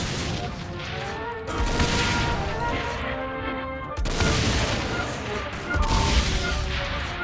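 Saints Row IV gunfire, dense and booming, with crashing volleys rolling under a raised voice across the whole stretch.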